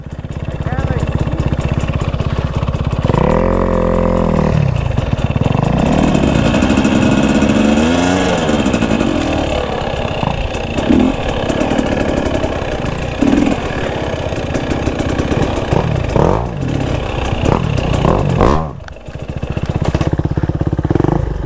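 Off-road motorcycle engine running on a soupy autumn trail at sunset, close and loud, idling with uneven revs and surges, while people talk over the engine noise.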